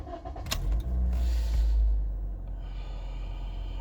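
A 2017 Toyota Corolla with a P2610 check engine light is restarted: a brief click, then the starter cranks and the engine catches into a low idle rumble that settles and fades, with no talk.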